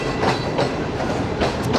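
The Shalimar Express passenger train rolls on the rails near Toba Tek Singh with a loud, steady rumble and rhythmic clickety-clack of wheels over rail joints, heard from on board.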